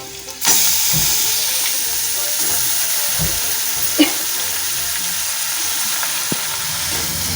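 Loud, continuous sizzling of carrots frying in hot oil after garlic and green chillies, with occasional soft clicks of stirring.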